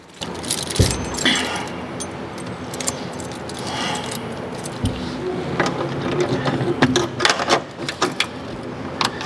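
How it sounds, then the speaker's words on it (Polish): Metallic jingling and clinking of car keys come in bursts, like a bunch of keys being handled, around a small Polish microcar from Trzebinia, over a low rumbling background with some voices. "nie jest kluczyk od Simpsona"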